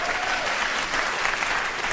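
A theatre audience at a stand-up comedy show claps in a steady, dense wash of applause that fills the room without a break.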